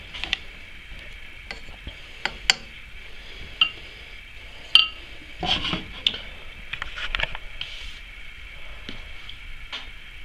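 Scrap candle wax melting in a pot while being stirred, with scattered light clinks and scrapes of the utensil against the metal over a faint steady background hum.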